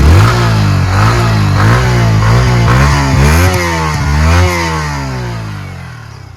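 A Yamaha MT15 motorcycle with its original exhaust revs hard and close, its engine note climbing and falling through several quick throttle blips before it settles back toward idle.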